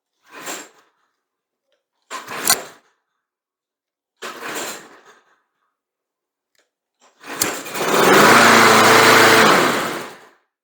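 A lawn mower's pull cord is yanked three times in short rasping bursts with silent gaps between them, then the small engine catches and runs with a loud, steady roar for a few seconds before cutting off.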